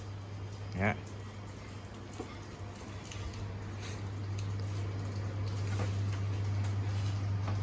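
Rain falls steadily outside a small shop as a broad, diffuse patter that swells slightly over the span, with a constant low electrical hum underneath and one brief knock early on.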